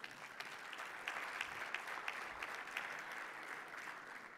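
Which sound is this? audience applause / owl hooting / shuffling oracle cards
audience applause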